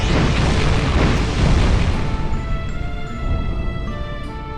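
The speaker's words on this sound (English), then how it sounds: "the jewel detonates." A jewel detonates in The Legend of Heroes IV video game, a loud, deep, rumbling blast that roars for about two seconds and then fades into a sustained, ringing tail.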